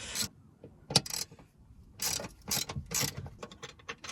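Ratchet working Torx seat bolts loose inside a Vauxhall Zafira B: bursts of crisp, rapid metallic clicking, close and moderately loud, separated by short pauses.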